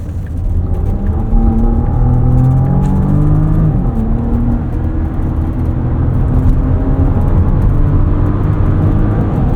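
Inside a 2024 Porsche Cayenne E-Hybrid in Sport Plus mode on an entrance ramp, the engine drones loud and close, its pitch rising and sliding with throttle over a constant rumble of road noise.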